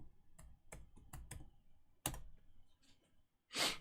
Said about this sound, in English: So all you got to do is come and type in Giame.